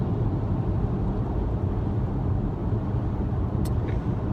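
Steady low rumble inside a moving car on the road, constant and fairly loud, with a faint brief click near the end and no talking.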